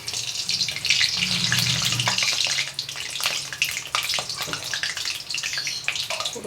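Koftas of raw green banana frying in hot oil, a close, steady bubbling sizzle with crackling pops throughout, loud and continuous.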